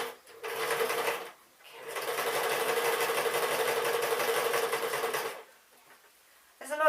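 Sewing machine stitching a pink dress, a steady rapid mechanical whir that runs in two bursts, a short one and then a longer, even stretch, separated by brief pauses, close and alone.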